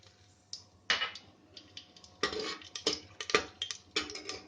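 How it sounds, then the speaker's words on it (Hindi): Whole spices tossed into hot oil in a pressure cooker clatter and tick against the metal in a scattered series of close, faint clinks and light crackles. "मैं ये खड़े मसाले डाल देती हूँ।"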